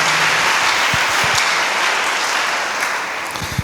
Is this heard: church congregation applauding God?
yes